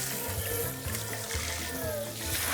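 Tap water runs steadily into a sink while an abalone shell is washed, a continuous splashing hiss with low clatter, close, while a person talks over it.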